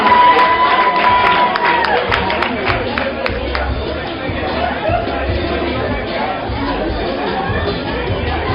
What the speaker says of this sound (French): On les applaudit encore très très fort